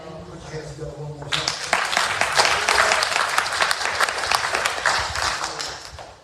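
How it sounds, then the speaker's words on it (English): A church congregation breaks into applause after brief speech, the clapping swelling quickly into a dense, lively burst that carries on for several seconds at close range before tapering slightly. "Put your hands together."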